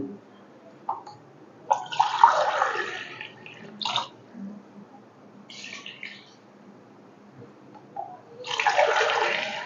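Water poured into a pot of chicken curry gravy, heard as several separate bursts of splashing and gushing, each a second or two long, with quieter gaps between them.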